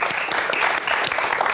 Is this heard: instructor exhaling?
no